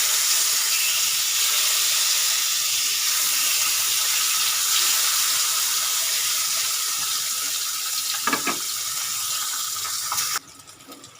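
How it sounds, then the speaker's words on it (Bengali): Pabda fish sizzle in hot oil in a pan, a loud steady hiss that runs unbroken, with a few brief clatters near the end before it drops quieter. "মাছগুলো আমি হালকা ফ্রাই করব"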